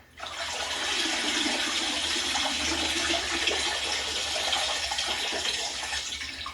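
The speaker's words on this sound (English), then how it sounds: "I'll just fill it up with even more water." Water pours from a tap to fill a container, a steady rushing gush that starts abruptly and runs evenly for several seconds, loud and close, with no talking.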